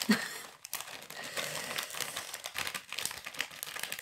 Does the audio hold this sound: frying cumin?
no